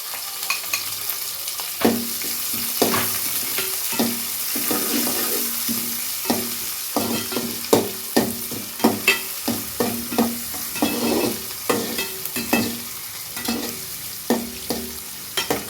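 Onions and small shallots sautéing in a pan for egg masala rice, with a steady sizzle broken by repeated spatula scrapes and stirs in an uneven rhythm, close and clear, no voices.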